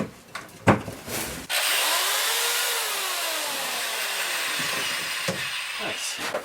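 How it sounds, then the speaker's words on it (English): A handheld drill plugged into a solar-powered outlet in a mini camper with a Renogy 100Ah Core Mini battery, spinning up with a steady, loud whine that holds for several seconds, rising and falling slightly in pitch before stopping, with brief handling knocks. "Just went and grabbed a drill,"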